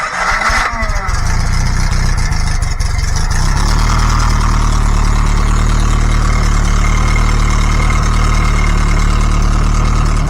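A Fiat 850 Spider's tiny rear-mounted 843cc four-cylinder engine starts after some rustling and then idles loudly and steadily, close up and with no talking over it.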